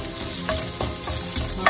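Garlic cloves with their skins on fry in a pan with oil, a constant loud close sizzle broken by a few utensil stirs and scrapes, no talk.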